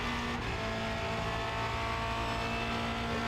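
A Formula Renault 2.0 race car on the Charlotte Motor Speedway Roval gives off a steady, fairly quiet engine drone with a faint tonal whine, and the pitch shifts slightly as it brakes.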